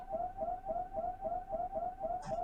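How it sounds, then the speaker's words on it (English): In a Metroid video game, the Metroid creature gives its familiar cry, a warbling, siren-like call repeated in an even rhythm about every quarter second. Steady and moderately loud, with no speech. "when she's about to die, the Metroid stops and makes a familiar sound"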